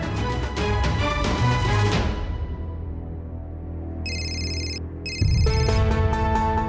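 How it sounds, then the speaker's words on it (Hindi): A phone ringtone plays a repeating electronic melody, with brief bright beeping tones in between, fairly faint and steady with no talking. "अरे ये फोन की रिंग तो घर पे ही बज रही है।"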